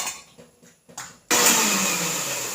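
A small mixer-grinder jar grinding cooled ingredients into paste for green peas curry. A few quiet clicks and handling knocks come first, then the motor cuts in abruptly with a loud, sustained whirring roar that slowly eases.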